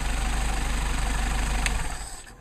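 An engine idles after a hot start with a steady, rhythmic chugging pulse heard up close, then quickly fades away at the end, with no talking.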